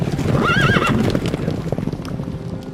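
A horse is ridden into the grounds of an ashram. A loud, wavering neigh comes up front, while the hooves clop and shuffle steadily underneath.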